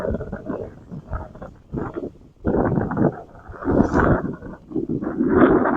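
Outdoor wind at an archery practice buffets the microphone in uneven, low roaring gusts that swell and drop, loud and close, with brief lulls between them.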